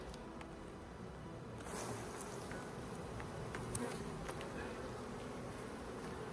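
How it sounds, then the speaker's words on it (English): Honey bees swarm around a hive frame during a beekeeping hive inspection, their steady, dense buzzing droning loudly throughout with individual bees zipping past close by. "Get these bees off of here."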